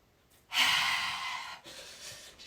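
One long, deep breath drawn in through the nose during a qigong exercise, close and breathy, rising sharply and then slowly tapering over about a second, with a fainter exhale trailing after.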